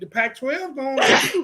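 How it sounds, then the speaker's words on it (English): A man lets out a single loud, sharp sneeze in a studio during a college football talk show, coming right after people talking. "Keep that COVID sneeze over there."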